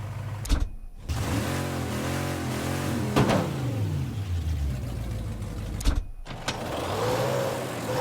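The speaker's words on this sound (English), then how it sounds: "Nice Corvette." A Corvette in a video game accelerates with a steady mid-range engine drone and shifting tones, broken by two brief cuts, all loud and close with no talk.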